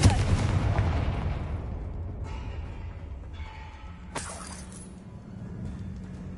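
A Confringo fire spell from Hogwarts Legacy blasts off loudly with a broad, rumbling burst that fades over a few seconds, followed by fainter magical shimmering tones and a brief crackling flare.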